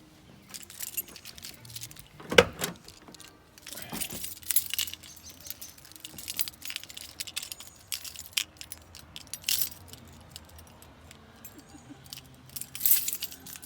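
Keys jangle and clink in several bursts, close by, with scattered rustling and handling noise between them.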